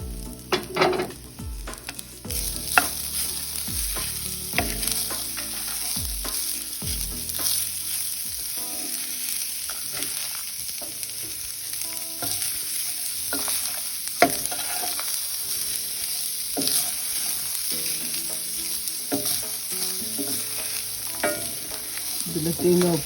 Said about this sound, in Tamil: இதில் தேங்காவை போட்டு நல்லா ஃப்ரை பண்ணிக்கோங்க.